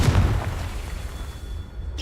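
A Confringo blast spell explodes in Hogwarts Legacy with a loud low boom at the start, its rumble rolling and fading over the next two seconds.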